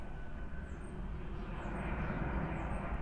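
Airplanes flying overhead near an airport, a steady broad engine roar that fills the clip without a break, moderately loud and constant, with no talking.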